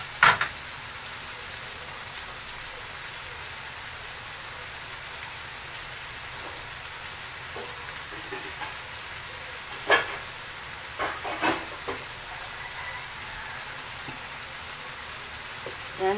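Egg and vegetables sizzle in a hot pan for a spicy breakfast, a steady even hiss throughout with a few louder pops and crackles standing out now and then.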